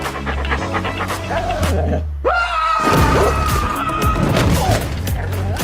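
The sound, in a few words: dog panting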